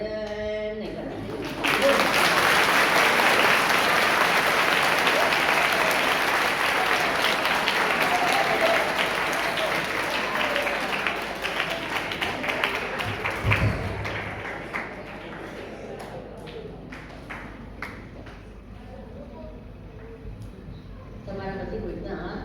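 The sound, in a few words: audience clapping at a spiritual talk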